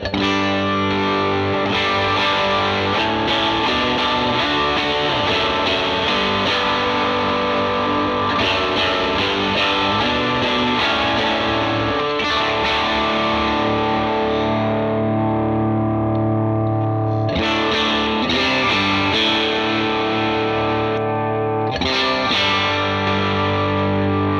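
An electric guitar plays chords and riffs through a mid-gain overdrive pedal, moderately crunchy, thick and sustained, with brief pauses between phrases.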